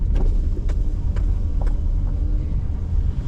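Steady low engine rumble of a truck rolling into a scrap yard, with faint clanks and rattles over the drone, close and continuous.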